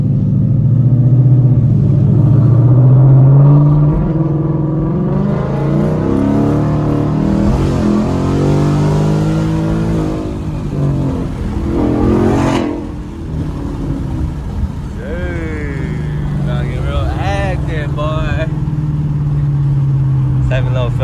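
A Mustang GT cruising in traffic, its engine droning loud and close with rising revs, while voices talk over it throughout.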